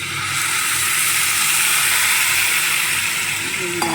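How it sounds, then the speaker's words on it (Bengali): Hot water hits lentil khichuri frying in a pot, setting off a loud, steady sizzle and steamy hiss that holds throughout, with a faint clink near the end. "এবারে আমি দিয়ে দেবো গরম জল"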